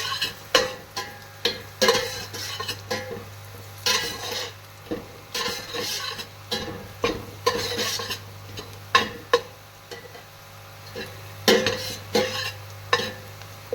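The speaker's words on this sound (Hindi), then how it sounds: "इन्हें घुमा घुमा के फ्राई करें, वरना ये एक जगह से ही फ्राई होंगे और बाकी जगह से वाइट रह जाएंगे" Mutton pieces are stirred and fried in a pot for yakhni pulao, with repeated scraping strokes of a spoon against metal over a steady sizzle and a low hum, close and fairly loud.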